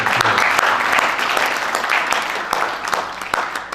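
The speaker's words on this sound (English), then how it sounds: "Let's give him a round of applause." An audience at a congress gathering gives a round of applause, with dense, crisp clapping that stays strong from start to finish and has a few sharp individual claps standing out.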